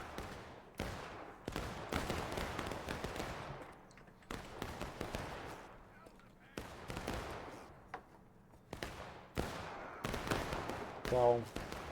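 Cannon and gunfire in a Civil War battle game defending Fort Pillow: repeated booming blasts with long decaying tails, spaced every second or so, loud and near, with a voice talking in between.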